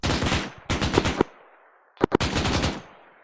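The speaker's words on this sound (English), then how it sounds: "Yeah, they're firing this way." Two bursts of rapid automatic gunfire crackle in Arma 3, each a tight string of loud close shots, separated by a short silent gap.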